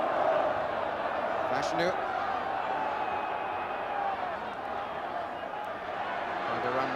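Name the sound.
football stadium crowd roaring after a goal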